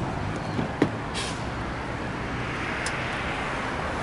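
A city bus idling and pulling away, a low steady engine rumble with a brief knock near the start, heard from close by at moderate loudness.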